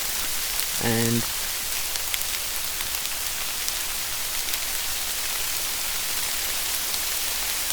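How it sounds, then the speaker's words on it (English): Steady, dense hiss of heavy rain pouring down at Ludshott, loud and continuous, with a brief tonal sound near the start and a single short spoken word. "it's raining hard. It's raining very hard"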